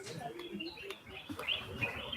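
Exotic birds chirp and coo from a playing video, a scattered run of bright tweets and soft calls at moderate volume over faint background noise.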